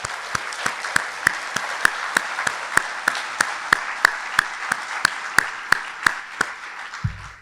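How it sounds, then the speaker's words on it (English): A round of applause at a BSN nursing pinning ceremony, with one sharp, evenly spaced clap standing out close by over softer scattered clapping from the room, ending abruptly. "I want all of us to give a round of applause to all of these great people in this room"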